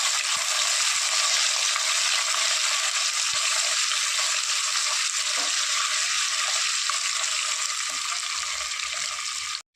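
Garlic and spices frying in oil for hog plum pickle, a constant close hiss and crackle of sizzling that holds steady throughout before cutting off abruptly at the end.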